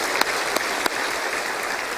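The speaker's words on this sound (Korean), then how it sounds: "오늘 또 시원찬 자한테 우리 박수 한번 하겠어요." A church congregation applauding the choir during a Sunday worship service, dense, sustained clapping from a large crowd filling the room, with a few sharper claps standing out and no speech over it.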